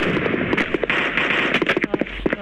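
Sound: bomb explosions in the video game Guns of Boom

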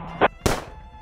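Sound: gunshots in the video game Rebel Cops

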